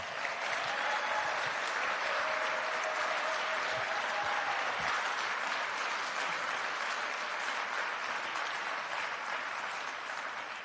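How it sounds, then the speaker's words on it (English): A standing audience at a Martin Luther King Jr. memorial breakfast applauds, sustained full-room clapping at an even level for the whole stretch, tapering only slightly at the end. "Please stand up and help me give her a round of applause."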